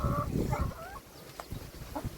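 Free-range village chickens cluck and squawk close by in short, irregular calls with soft background rustling.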